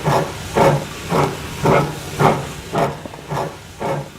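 A 1953 Hunslet Austerity steam locomotive working in Welsh industrial yards gives rhythmic exhaust chuffs and hissing steam, about eight evenly spaced beats, fairly close.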